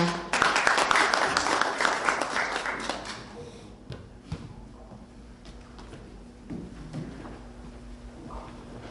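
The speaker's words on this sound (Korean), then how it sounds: "큰 박수로 앞으로 모시겠습니다" An audience at a book launch event claps in a loud burst of applause to welcome a speaker to the front, fading after a few seconds into quieter room noise with scattered movement.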